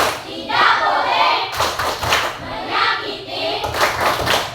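A classroom of children performs an anti-bullying clap chant during a school counseling session, with rhythmic bursts of hand clapping mixed with loud group voices chanting in unison.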